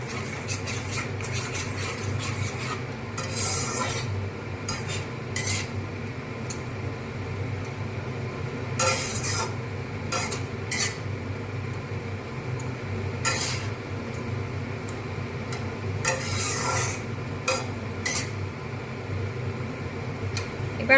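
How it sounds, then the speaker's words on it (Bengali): Chili powder, salt and other spices are stirred and mixed in a pan for an omelette curry, with repeated scraping and clinking bursts over a steady fan-like hum and no speech. "সবকটা মশলা এবার ভালো মতো মিশিয়ে নেব।"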